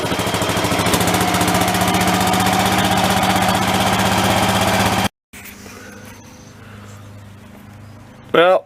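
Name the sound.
garden tractor engine idling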